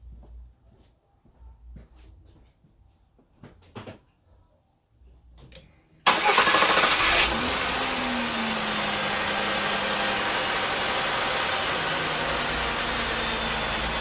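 A 2004 Oldsmobile Alero V6, just fitted with a new water pump, sits quiet with faint clicks before its starter fires around six seconds and it catches into a loud, steady idle with no belt squeal.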